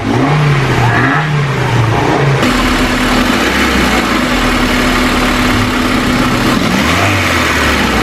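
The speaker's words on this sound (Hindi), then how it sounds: "गाड़ी स्टार्ट हो गई यार" An old Honda City, restored after sitting unused for about ten years, starts and settles into a steady idle, its engine hum loud and continuous with a brief rev near the start.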